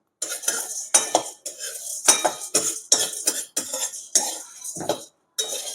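Toor dal and chana dal dry-roast in a pan, heard as bursts of rattling, scraping stirs against the metal in an uneven rhythm with short pauses between them, loud and close, no voices.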